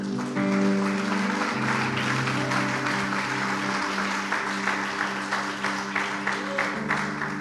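A church congregation applauds during a sermon, steady clapping layered over sustained organ or keyboard chords, with the clapping growing more distinct and rhythmic toward the end.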